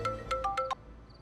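A phone rings with an incoming call: a short melodic ringtone of five quick electronic tones, close and clear, then a soft fainter chime.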